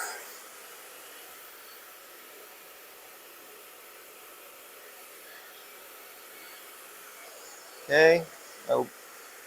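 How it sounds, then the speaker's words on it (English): A hair dryer blows on freshly cut hair in a barbershop, a steady even whoosh running the whole time before someone speaks briefly near the end. "So it's very important to me to dry it correctly."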